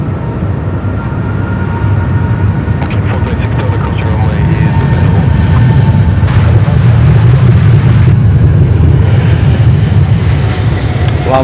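Airliner landing at Sydney Airport during the morning rush, a steady loud low roar of jet engines building and holding, with faint radio chatter and clicks over the top.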